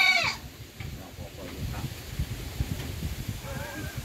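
A goat bleats briefly at the start, then again faintly near the end, with scattered shuffling and rustling noises between the calls, in a goat pen.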